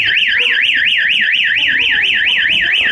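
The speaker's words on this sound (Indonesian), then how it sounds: "ketika misalnya ada seseorang masuk dan mendobrak pintu atau membuka pintu pada malam hari, maka alarm ini akan berbunyi." A door alarm shrieks after a door is opened, a loud rapidly warbling electronic siren rising and falling in steady cycles throughout, close to the microphone with faint background noise beneath.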